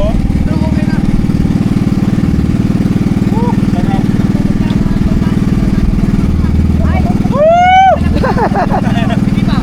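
A steady, droning boat motor engine runs loudly throughout, with faint chatter and a brief high squeaky sound near the end.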